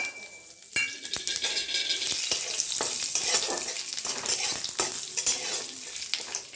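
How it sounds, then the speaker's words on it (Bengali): Panch phoron, dried red chilli and bay leaf sizzle in hot mustard oil in a kadai, a bright crackling fry punctuated by sharp spatula clicks as the spices are stirred. "এবার কড়ার মধ্যে আমি সর্ষের তেল দিয়ে দিয়েছি। এবার আমি 5 ফোড়ন, শুকনো লঙ্কা, তেজপাতাটা দিয়ে দেবো।"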